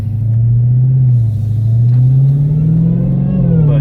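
Supercharged Dodge Hellcat V8 revving close by, a loud deep rumble whose pitch rises and falls in smooth swells over a few seconds, with no talk over it.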